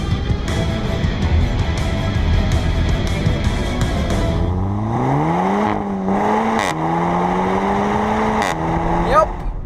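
Seat Leon Cupra 290 hot hatchback with the EA888 turbo petrol engine pulling hard while driving, a steady loud drone that rises in pitch through the gears with brief shift breaks, under occasional talk.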